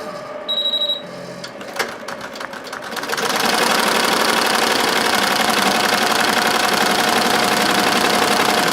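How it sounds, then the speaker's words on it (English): An embroidery machine stitching a design of about 6,000 stitches down a long shirt sleeve, starting with a few beeps and clicks, then settling into a loud, steady, dense mechanical whir. "Now we're going to take it over to the machine and we're going to embroider it."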